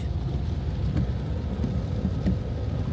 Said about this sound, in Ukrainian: На вулиці дорога і дощ.